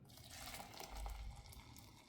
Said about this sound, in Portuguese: Agora eu vou pegar água quente.